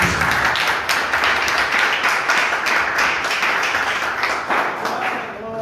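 A church congregation claps to welcome Pastor Felipe, a dense, steady wash of many hands that stays loud and close throughout with voices mixed in.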